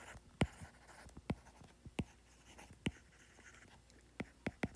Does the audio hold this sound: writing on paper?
yes